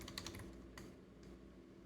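Computer keyboard typing, a quick burst of clicky keystrokes at the start followed by a few scattered taps, heard close and fairly quiet against a low room hum.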